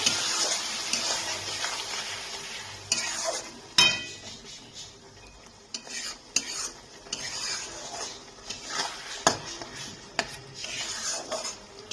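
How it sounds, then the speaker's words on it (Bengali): A ground paste of chili, ginger and garlic sautéing in oil in a pan for a bhetki fish head curry: a soft, continuous sizzle broken by sharp spatula clanks and scrapes against the pan at irregular intervals. "দিয়ে এই মশলাটাকে দিয়ে ভালো করে আমি একটু কষিয়ে নেব"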